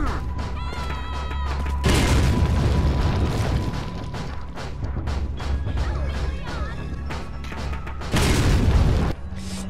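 A grenade explosion in Resident Evil 4, heavy booming blasts that roar in at about two seconds and again near eight seconds, crashing over game sound effects and music.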